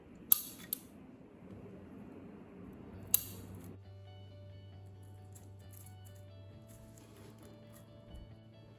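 Scissors cutting plant branches for a flower arrangement, two sharp distinct snips a few seconds apart in a quiet room, with a faint low hum in between.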